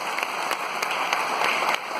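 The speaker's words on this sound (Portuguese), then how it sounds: "Você pode aplaudir o nome de Jesus" A church congregation applauds together in a steady, dense wash of clapping that carries on without a break for the full two seconds, fairly close and even in loudness, with no voices speaking over it.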